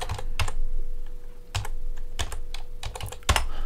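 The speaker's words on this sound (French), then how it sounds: "je frappe la touche Enter pour indiquer que j'ai fini" Keys clack on a computer keyboard as a number is typed into a spreadsheet cell and Enter is pressed, a handful of crisp, close taps spaced unevenly over a few seconds.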